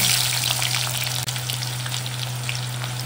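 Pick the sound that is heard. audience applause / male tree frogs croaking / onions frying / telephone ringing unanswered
onions frying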